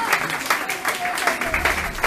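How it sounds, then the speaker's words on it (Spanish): Church congregation applauding during a service, a steady wash of clapping filling the room, with voices mixed in over it. "Un aplauso para Cristo."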